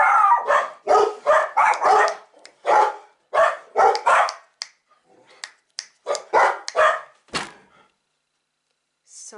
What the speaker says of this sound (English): I can't talk over there barking.